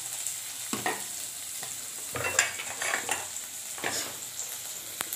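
Green chillies and capsicum are stir-fried in a pan for triple rice, with intermittent scraping and stirring strokes cutting through a continuous close sizzle.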